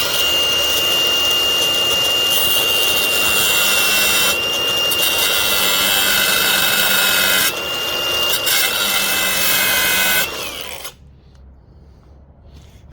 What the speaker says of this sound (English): let me take the grinder and put a bunch of sparks.